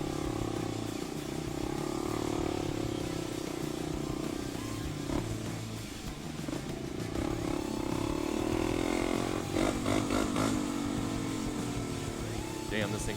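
Enduro motorcycle engine droning steadily while riding, loud and close, with a loose exhaust shield, smoking and short on brakes; a voice talks over the engine noise.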